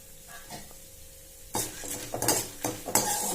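Mustard seeds with urad and chana dal sautéed in a pan for curd rice: a quiet start, then spoon scrapes and clinks against the pan over a light sizzle, close and intermittent, with no talking.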